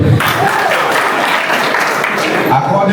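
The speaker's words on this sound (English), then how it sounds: "Clap for him." Students clap for a classmate at a college SRC week celebration, a loud, steady burst of applause with voices mixed in and a shout near the end.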